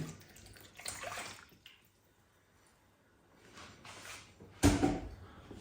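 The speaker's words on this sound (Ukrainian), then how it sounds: "Для початку даємо 250 грам води." Water, 250 grams, splashes and pours into a bowl in a few short bursts with quiet gaps between, ending with a louder gush and a clunk.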